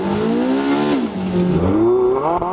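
A Porsche 918 being driven, its engine note rising and falling through gear changes, loud and close from inside the car, a strong whirring drone that dips and climbs again.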